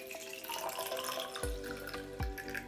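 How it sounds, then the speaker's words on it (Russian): Water runs into a container held under a tap, with one finger closing off a hole in it, flowing steadily and close by; two brief louder thumps break the stream partway through. "Закрываем пальцем отверстие и набираем в емкость воду"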